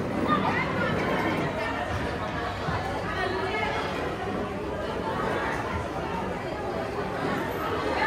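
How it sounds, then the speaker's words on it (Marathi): Dense crowd chatter fills a first-birthday party around a food counter, many voices talking at once in a steady, close hubbub with no pauses. "इकडे या काउंटरला गर्दी पडले बघूया."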